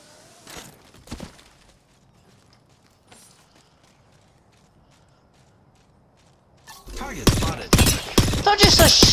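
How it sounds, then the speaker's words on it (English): Gunfire in the battle royale game Apex Legends: a few scattered distant shots early, then a loud close burst of rapid automatic fire with sharp cracks near the end, no talking. "Shooting!"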